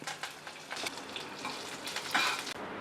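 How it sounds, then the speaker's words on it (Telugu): Mustard seeds and cumin spluttering in hot oil in a pan for a baby potato masala curry, a steady close crackling sizzle with sharp pops throughout, no voices. "ఆవాలు వేసుకోవాలి, కొంచెం జీలకర్ర, చిటపట్లు ఆడుతున్నప్పుడు కొంచెం కరివేపాకు."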